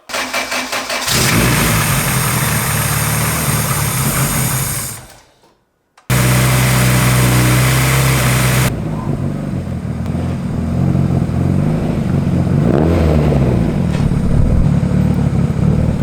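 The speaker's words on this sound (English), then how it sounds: "First start with the new flex pipe installed and the blow-off valve with the new intercooler piping." A modified 600 HP Honda Civic street car with reworked intercooler piping, a new flex pipe and a blow-off valve starts up loud and close, runs rough, cuts out, then restarts and idles with revs rising and falling.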